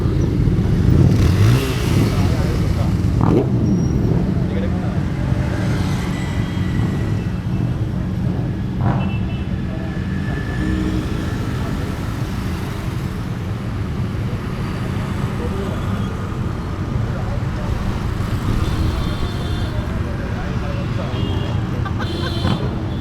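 Superbikes, including a Suzuki Hayabusa, Harley-Davidson, Apache 310 and Benelli, start up and ride off at a World Motorcycle Day gathering; a steady, loud engine and traffic roar runs throughout, with revving bursts over crowd noise and talk.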